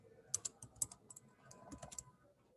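Typing on a computer keyboard while writing Java code, heard as an irregular run of close, crisp key clicks with a few louder strikes, alone without talk.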